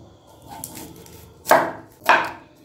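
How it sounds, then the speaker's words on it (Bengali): A knife chops onions finely on a board, making a few sharp, close cuts, with two loud chops standing out after quieter tapping. "এবার পেঁয়াজগুলোকে কুচি কুচি করে কেটে নিচ্ছি।"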